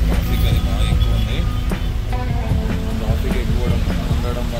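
Heavy road traffic near Katpadi, Vellore, heard as a dense, steady roar of engines with occasional horn tones, constant and loud throughout, with voices mixed in.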